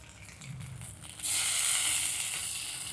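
Panch phoron spices hitting hot oil in a home kitchen while cooking egg chops: a loud, steady sizzle bursts in after about a second and keeps crackling close by, easing slightly toward the end.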